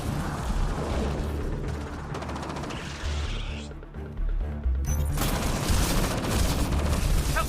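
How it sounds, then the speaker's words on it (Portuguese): Gunfire in the Mass Effect Andromeda video game, continuous bursts of weapon shots and mechanical clatter over a loud, dense battle soundscape, with a brief lull before the fighting surges again. "Ah, Ryder, para só de tomar tiro, faz alguma coisa."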